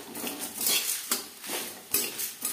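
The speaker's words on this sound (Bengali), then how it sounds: "যতক্ষণ না পর্যন্ত মশলা থেকে স্মেল বেরোতে শুরু করে দেয়, ততক্ষণ পর্যন্ত নাড়াচাড়া করে নেব" A spoon scrapes and clatters against a pan while black pepper and spices are stirred over a low gas flame, making a close, uneven run of metallic taps and scrapes with no talking.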